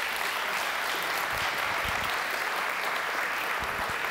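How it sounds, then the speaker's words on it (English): An audience at a community smart growth forum claps steadily for the moderator, a dense, even wash of applause that holds at the same level throughout with no voices on top. "I just want to give a round of applause for our moderator"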